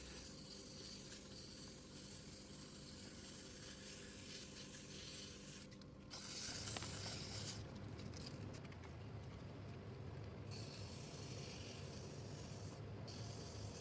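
Turned wood spins on a woodwork lathe while P120 and then P240 sandpaper is pressed against it, a steady faint rubbing hiss over the lathe's hum that grows rougher and louder midway.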